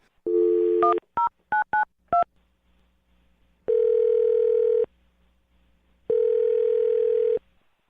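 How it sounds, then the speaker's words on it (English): A burst of short touch-tone beeps as a number is dialed, then two long, steady ringback tones separated by silence. "I'm going to dial his phone number right now"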